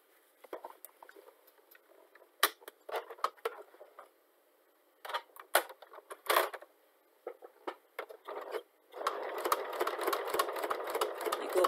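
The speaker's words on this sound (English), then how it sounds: "there you go, you sew right on top here" A sewing machine stitches a fabric turban headband in short, stop-start bursts of rapid mechanical clatter, then a longer continuous run at the end, close up and without speech.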